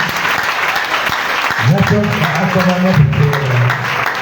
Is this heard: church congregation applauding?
yes